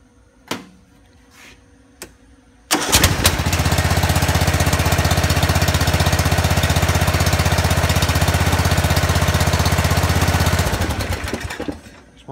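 A John Deere Z225 lawn tractor engine, after a valve adjustment, starts following a few clicks and knocks, then runs at a loud steady roar for about eight seconds before winding down.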